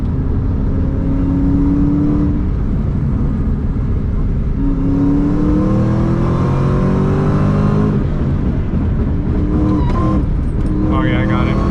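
A supercharged Terminator Cobra with over 700 horsepower revs loudly from inside the car, its engine tone and whine rising and falling through several sweeps under a constant, heavy rumble.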